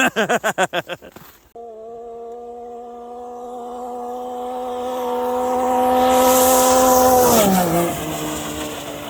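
A car makes a high-speed pass by a radar gun on a GPS speedometer test run: a rising, sustained engine tone that climbs in pitch and loudness, then drops sharply as it passes, with a brief fluttering rumble at the start.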